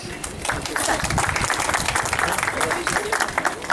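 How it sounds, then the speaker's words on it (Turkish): Audience applause during a plaque presentation at a local award ceremony, dense steady clapping from a crowd with a murmur of voices mixed underneath. "Alkışlıyoruz."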